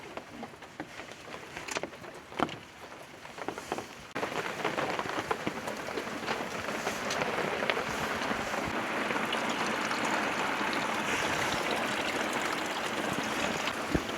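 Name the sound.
heavy rain at a campsite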